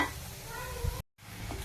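Grated coconut roasts in a pan with a soft, steady sizzle, and a couple of quiet stirring scrapes cut in before a brief gap of silence.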